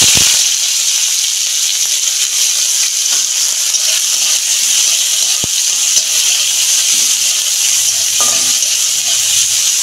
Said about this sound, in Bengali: পেঁয়াজটা আমি একটু 2 মিনিট ভেজে নেব।